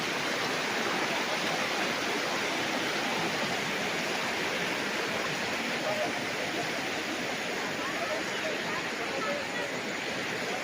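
River water flowing steadily in a stream beside a farm lot in Liliw, Laguna, a dense, even rushing wash that holds constant and close throughout.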